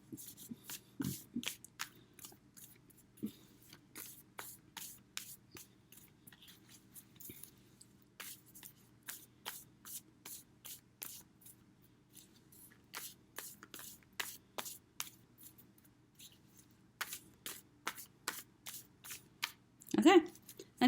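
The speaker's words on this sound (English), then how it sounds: "I'm going to shuffle 5 more times." Tarot cards are shuffled by hand in a quiet room, giving a string of soft, crisp riffling bursts with brief pauses in between, ending with a slightly louder shuffle.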